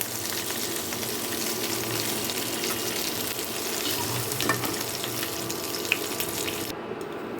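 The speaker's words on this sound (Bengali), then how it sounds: "মাছের মাথাগুলোকে খুব ভালো করে ভেজে নেব" Rohu fish heads fry in oil, giving a moderate continuous sizzle and crackle with occasional stirring clinks, close by, before a brief cut near the end.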